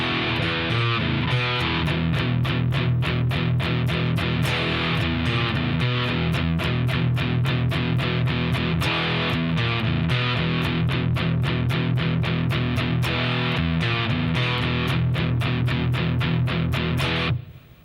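Distorted electric guitar plays a verse riff, with steady, driving eighth-note chugs at a constant loud level for about seventeen seconds, then cutting off abruptly.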